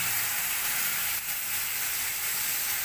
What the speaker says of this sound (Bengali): এবার মাছের তেল ভাজবো।